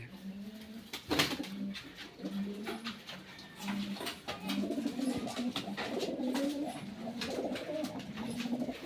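Pigeons coo repeatedly inside a pigeon loft, the soft, low calls overlapping close by along with faint rustling and a sharp knock near the start.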